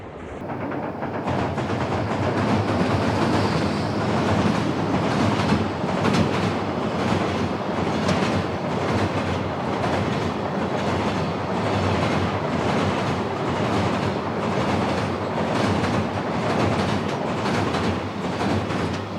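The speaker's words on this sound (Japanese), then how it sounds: "2075列車福岡貨物ターミナル行きです。" Freight train 2075 on the Kagoshima Main Line, bound for Fukuoka Freight Terminal, rolls past close by, a loud continuous roar of wagons with rhythmic clickety-clack of wheels over rail joints that holds steady throughout.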